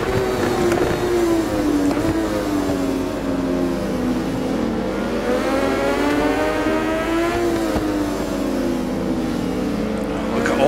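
Many racing motorcycles, among them an MV Agusta F3 675, R1s and ZR14s, scream together in a crowded RIDE 4 race at Kanto South. It is a dense, continuous engine roar with rising and falling pitch sweeps as the bikes rev and shift.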